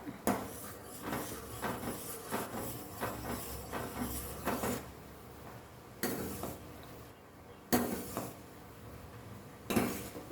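Gooseberry juice heating in a pan on a stove is stirred with a metal spoon, giving faint clinks and scrapes against the pan and a few sharper knocks, quiet and close.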